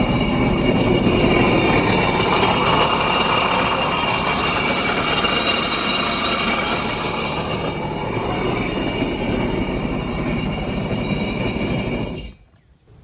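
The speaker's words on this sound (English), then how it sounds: "So the first thing I'm going to do is just start the engine." A Sea-Doo Spark jet ski engine runs at a steady, loud drone for about twelve seconds during an oil change, then cuts off abruptly into near silence.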